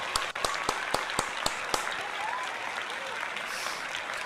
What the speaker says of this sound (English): So I'll give you a round of applause as well.